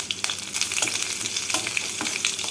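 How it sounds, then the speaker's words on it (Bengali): Two green chillies and half a teaspoon of white cumin seeds sizzle in well-heated oil, giving a loud, close, crackling hiss with sharp spits and pops throughout and no talking. "এর মধ্যে ফোড়নে দিচ্ছি দুটো কাঁচা লঙ্কা আর হাফ টিস্পুন সাদা জিরে"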